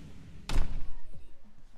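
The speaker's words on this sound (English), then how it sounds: "Go ahead and close these up." A single heavy thud of heavy mansion doors shutting, sharp and fairly loud, followed by a low rumbling settle and faint room noise.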